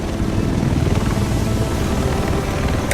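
Helicopter in the video game The Division, set in Manhattan, a steady loud rotor and engine rumble with rapid low thumping throughout, no voices.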